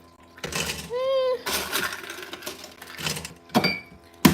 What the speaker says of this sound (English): I'm getting ice for my tea